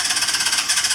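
A 1983 Honda CB1000 C Custom motorcycle engine runs with throttle applied, a loud, close, rapid pulsing buzz that throbs evenly through the brief moment.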